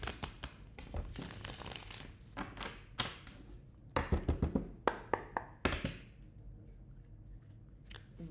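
A tarot deck is shuffled by hand in a quiet room, giving soft papery riffles and a burst of quick card taps and slaps toward the middle, close and faint, with no voice over it.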